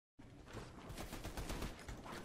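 Rapid bursts of gunfire in a ranked online shooter match, dense overlapping shots filling the clip loudly and continuously with no talk.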